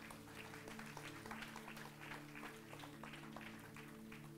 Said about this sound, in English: Can we just give a round of applause to these people?